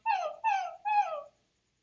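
A human voice imitates a whiny puppy, giving three high, wavering whimpers in quick succession, each sliding downward in pitch, close and clear with nothing else behind them.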